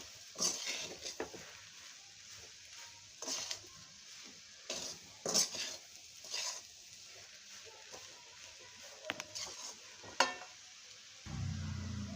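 Moong dal being stirred as it dry-roasts in a pan for halwa, a series of soft scraping strokes with a sharp clack near the end, faint and spread over a quiet background.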